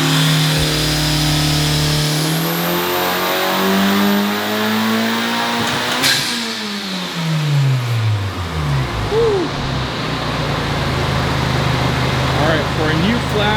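A 2024 Honda Civic Type R on a dyno runs a pull on a new flash tune: the engine climbs loudly through the revs, shifts and keeps accelerating. A voice is heard briefly under the engine noise.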